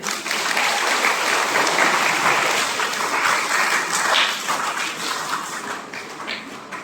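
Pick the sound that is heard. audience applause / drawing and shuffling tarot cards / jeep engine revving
audience applause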